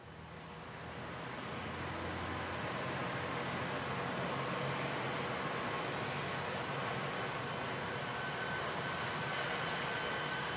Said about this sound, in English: Scott Kelly in the NASA plane taxiing on the runway now down at Ellington in Houston.